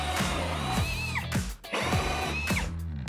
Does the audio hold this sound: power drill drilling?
yes